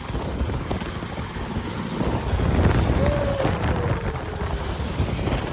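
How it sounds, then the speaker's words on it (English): A homemade hovercraft engine idles with a steady, rough drone under heavy gusting wind noise, and a faint rising whine briefly appears partway through. "Does it idle? It idles."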